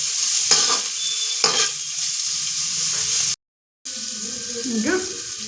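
Onions frying in a pan, a continuous sizzle with two scraping stirs and a brief gap, plus a scraping sweep near the end.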